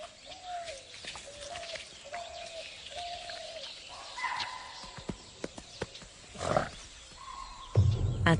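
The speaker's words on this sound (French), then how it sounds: "Soudain, un cri d'alerte les perturbe." Wild animals sound a repeated alarm call in a Bengal tiger's habitat as grazing herbivores are disturbed, a series of short tonal cries followed by scattered sharper calls and rustling, heard at a moderate distance.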